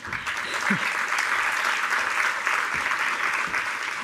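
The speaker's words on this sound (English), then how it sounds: "Warm applause" Warm applause from a conference audience in Brussels welcoming a speaker to the stage, a continuous even wash of clapping with a few faint voices and stray sounds beneath it.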